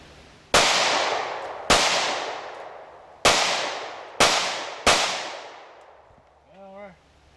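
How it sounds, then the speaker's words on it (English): Five sharp, loud shots from a Smith & Wesson M&P Shield .45 ACP pistol, spaced unevenly about a second apart, each with a decaying ring, followed by a brief voice. "So there's our 5 shots, and I'm just blasting about"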